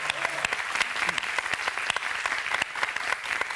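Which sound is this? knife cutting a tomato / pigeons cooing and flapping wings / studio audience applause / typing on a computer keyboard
studio audience applause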